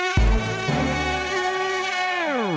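A cartoon mosquito buzz from an animated Tamil children's episode, one continuous whining drone that opens with a low thump, holds steady and loud, then bends downward at the end.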